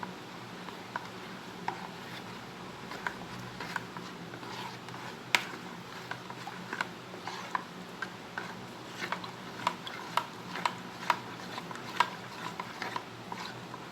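A spoon stirring cornflour batter thinned with water in a bowl, a steady run of light ticking and tapping strokes, close and quiet, with no talk over it.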